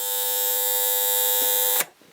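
A refurbished Copal RP200 flip alarm clock rings with a loud, steady, high metallic buzz held close for nearly two seconds before it is cut off.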